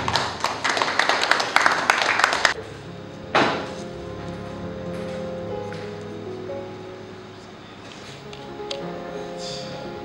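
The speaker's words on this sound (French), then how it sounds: "sous vos applaudissements, s'il vous plaît" Brief, dense applause from the audience at a book launch for Maman Nicole Lobo's book lasts a couple of seconds and then stops abruptly, followed by a single thump and a quieter room with faint sustained tones.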